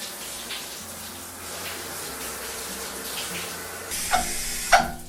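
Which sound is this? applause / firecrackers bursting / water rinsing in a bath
water rinsing in a bath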